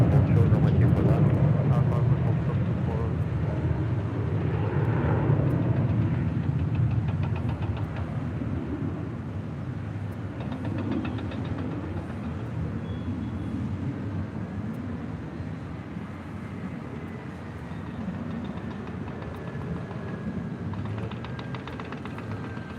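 A Delta heavy airliner's engines rumble low and steady on a runway at LAX, a continuous droning roar that slowly eases, with radio talk heard over it.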